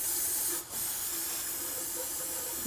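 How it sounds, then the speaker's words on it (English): Brake cleaner sprays onto the oil filter threads of a 2011-2017 Honda Odyssey, a steady close hiss with one brief break in the middle, and no talking. "I'm going to use just a little bit of brake clean."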